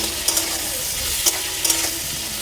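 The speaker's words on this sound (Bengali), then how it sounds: "টমেটোগুলো নরম না হওয়া পর্যন্ত নাড়তে থাকবো" Onions and tomatoes stirring and frying in oil for a fish curry, with a steady close sizzle and a few scraping stirs of a spoon in the pan, no voices.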